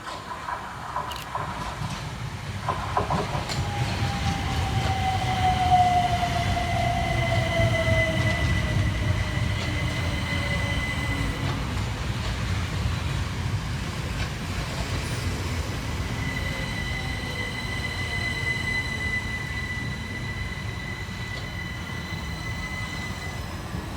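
Two Class 377 Southern electric units pull into Carshalton station, a steady rolling rumble of wheels on rail with a long falling brake squeal and high whining tones, loud and close throughout with no voices.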